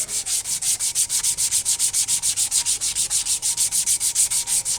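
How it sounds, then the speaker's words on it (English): Sandpaper rubbed by hand along a handmade knife handle in quick, even back-and-forth strokes, a steady run of close, loud scratchy rasps with no talking. "sometimes we just give people the sandpaper and they do this for half an hour"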